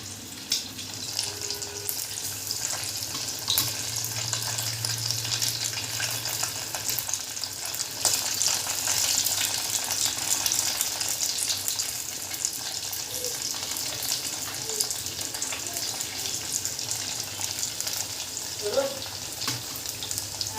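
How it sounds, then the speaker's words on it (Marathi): Pieces fry in hot oil in a pan until almond-brown, a steady soft sizzle running throughout with occasional faint clinks of turning them over. "फक्त बदाम कलरवर आपण यांना परतून घेणार आहोत"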